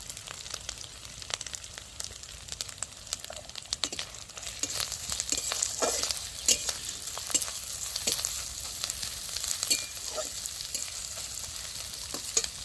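Bitter melon frying with turmeric powder in a pan, a steady soft sizzle broken by frequent stirring clicks and scrapes, close and without talk.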